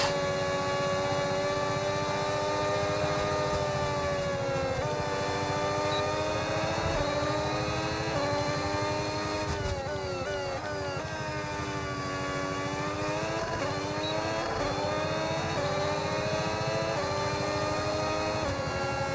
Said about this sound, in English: So it's really strange how different cars have different engine sounds.